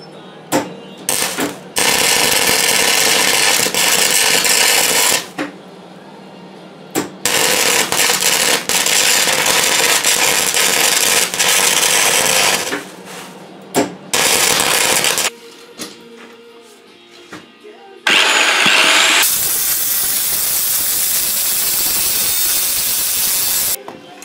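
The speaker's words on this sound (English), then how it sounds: "I started grinding. Grinding's really, really slow going." Grinding a hardfaced weld on an axe edge with a power grinder: loud, harsh hissing bursts of several seconds each, separated by short pauses and quieter stretches, close to the microphone, no talking.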